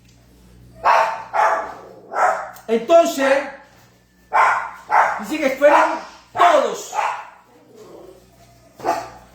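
A dog in a church service gives a run of repeated barks and yips, near and fairly loud, spaced through the clip, with a person talking around them.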